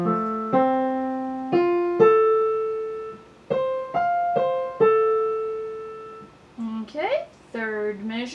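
Solo piano plays one measure of a piece: a run of short sixteenth notes followed by a held note, then further sustained notes and a rising figure, close and clear with no talking.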